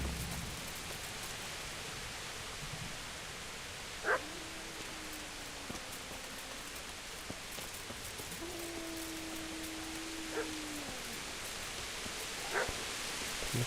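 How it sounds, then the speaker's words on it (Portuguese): Steady rain patters throughout a Kingdom Come: Deliverance scene while a dog gives a few faint, drawn-out barks or whines in the distance, spaced several seconds apart. "Um cachorro, velho."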